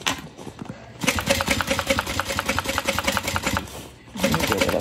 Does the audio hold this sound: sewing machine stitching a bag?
yes